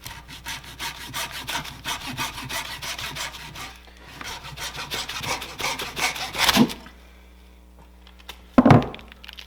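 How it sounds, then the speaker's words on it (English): A hacksaw cuts through a block of venison tallow suet in steady back-and-forth rasping strokes, pausing briefly before a final few scrapes, with a couple of sharp knocks near the end. "so I'm going to get my hacksaw"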